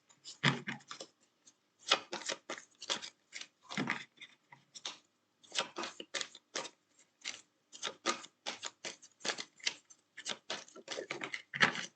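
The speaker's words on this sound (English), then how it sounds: "Oh, one more shuffle." Quick, crisp riffling clicks of tarot cards being shuffled, coming in several bursts with short pauses between, close and fairly quiet.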